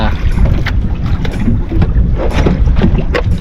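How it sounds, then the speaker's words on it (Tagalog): A fishing boat's engine runs on open water, a steady low rumble mixed with wind buffeting and water splashes, fairly loud and close, with no clear talk. "paandar na tayo ng ating makina."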